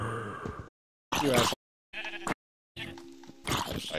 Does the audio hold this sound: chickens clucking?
no